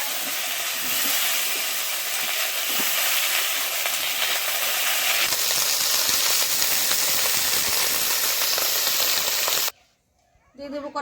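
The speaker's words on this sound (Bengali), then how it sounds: "আমি কপিগুলো ভাপিয়ে নিয়েছিলাম এখন একটু হালকা করে ভেজে নেবো" Steamed cauliflower florets frying lightly in oil in a pan, made for a Bengali katla fish curry with potato and cauliflower; a loud, steady, close sizzle holds for most of the clip, then cuts off abruptly near the end.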